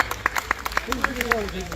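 Crowd clapping at an outdoor protest in Dundalk, a burst of scattered hand claps under a voice talking over it, fairly close and moderately loud.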